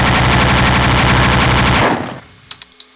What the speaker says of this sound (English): this is the chain gun